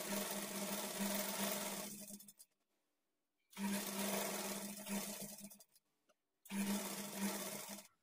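Sewing machine stitching a quarter-inch folded edge on a blouse lining, in three loud, close bursts of steady stitching separated by short silent pauses.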